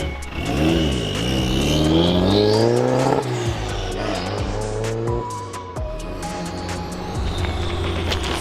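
A K-swapped Mazda RX-7 FD on a test drive revs hard through rising and falling gears, the engine loud and close for the whole stretch with a brief tire chirp, no voices.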